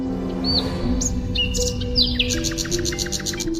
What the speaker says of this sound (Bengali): পাখিরা তখন গান গাইছে